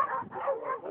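A dog barks and yips in quick succession, a brief burst of high, strained calls close by.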